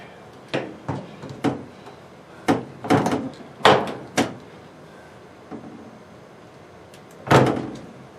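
A series of solid thunks and knocks as the metal door of an LG Sensor Dry dryer, model DLG7101W, is removed and handled, with a few bumps clustered together and one last louder clunk after a pause.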